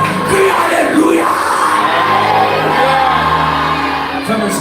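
Church congregation in a Haitian worship service loudly shouting Alleluia together, a sustained crowd of yells and whoops filling the room for several seconds before fading slightly at the end.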